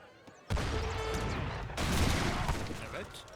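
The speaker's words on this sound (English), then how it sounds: "Mortar firing away." Mortar fire in an Age of Empires 3 match, heard as dense overlapping battle booms and crackling gunfire that start abruptly and swell in a louder second burst, with the game commentator talking over the din.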